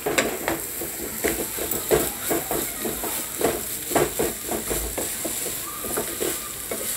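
Mutton keema with green chillies fries over a medium gas flame, a soft continuous sizzle broken by repeated scraping stirs of a spoon against the pan.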